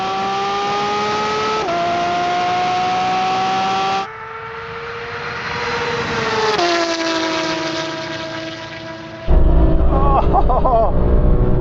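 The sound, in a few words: Porsche 911 GT3 RS cars accelerating in a drag race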